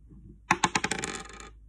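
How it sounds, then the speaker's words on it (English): Dice dropped onto a table for a counting lesson, a quick series of hard clattering bounces that shrink and speed up before going still, close and clear with no talking. "Let's roll the dice again."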